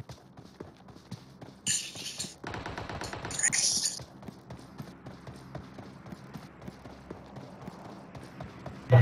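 Gunfire in the battle game PUBG: loud rapid automatic bursts crowd the first few seconds, then thin out into scattered quieter shots and soft footstep-like taps, with no voices.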